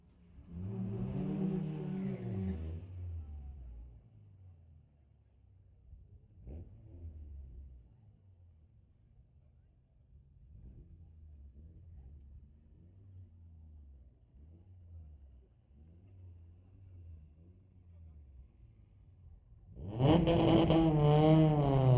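Street-legal drag race cars at a Friday night event at Mission Raceway Park, heard as a loud engine roar at the start, a quieter low rumble through the middle, and a loud burst of engine noise at the end.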